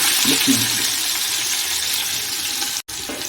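Thinly sliced onions land in hot ghee for Afghani pulao and set off a loud, steady, close hiss of sizzling. It runs unbroken until a brief drop near the end.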